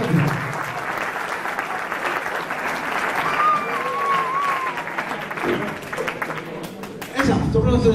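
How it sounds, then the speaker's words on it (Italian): An audience at a Christmas band concert applauds warmly, with steady massed clapping. A voice speaks over it at the start, and louder talk resumes at the very end. "quindi ancora un applauso, bravi, bravi, bravi"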